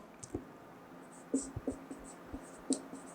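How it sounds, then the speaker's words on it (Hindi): Marker strokes on a classroom board, a handful of soft squeaks and taps spread unevenly across a few seconds, close and quiet with no talking. "यहाँ मैं लिखता हूँ"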